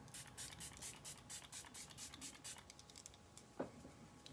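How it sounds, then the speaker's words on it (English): Rose gold makeup setting spray misted onto a face: a run of quick, quiet pumped hisses close by, followed by a soft bump. "I'm going to go in with this Rose Gold Setting Spray"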